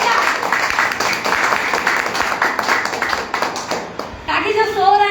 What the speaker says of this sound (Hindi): ताली बजाने में कंजूसी कर रहे हैं क्या? जोरदार बजा दीजिए